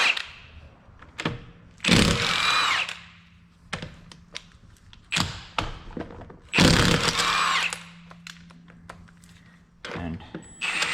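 An impact or power tool spins lug bolts off a Jeep Renegade with an 18 socket, in several loud bursts of rattling whir separated by short pauses and smaller clicks, close up.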